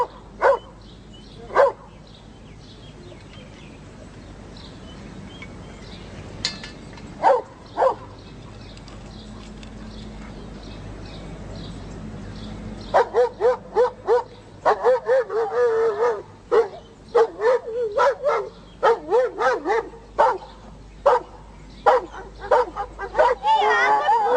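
Several pups barking and yipping, scattered sharp yelps early on, then a burst of rapid overlapping barks that keeps going to the end, close and loud, with some quiet whimpering between.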